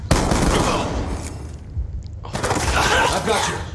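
Gunfire in the shooter game Call of Duty Black Ops 2, loud dense bursts of shots and impacts at the start and again after a brief lull, mixed with shouted talk.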